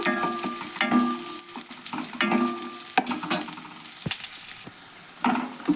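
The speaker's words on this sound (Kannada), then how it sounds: "ಉಳ್ಳಾಗಡ್ಡೆ ಎಣ್ಣೆ ಒಳಗೆ ಫ್ರೈ ಆಗಲಿದ್ದು" Onion frying in oil for toor dal, a close crackling sizzle broken by repeated spoon clinks and stirring scrapes against the pan, with no talk.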